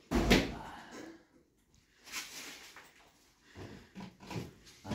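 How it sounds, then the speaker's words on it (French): Drawers are opened and closed in an abandoned house, giving a few separate knocking, sliding bursts with quiet pauses between them and faint background noise. "les tiroirs sont légers, tout a bien été vidé"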